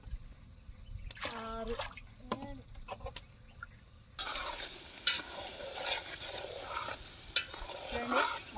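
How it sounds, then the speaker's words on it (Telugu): Chicken pieces being stirred in a cooking pot, with scraping and sizzling strokes that grow busier and louder partway through, under a voice speaking intermittently. "మొత్తానికి ఇలా కలుపుకోవాలండి చికెన్ ముక్కలు"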